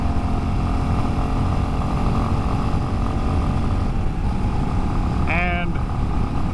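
A Royal Enfield Classic 350 motorcycle rumbles steadily along backroads, a constant close engine thrum mixed with wind, while a voice speaks over it.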